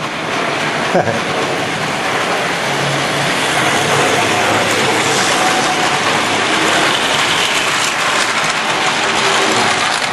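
Several Hornby Triang Rovex model train sets rattle on their track in a loud, steady, continuous clatter with a dense mechanical ticking texture throughout.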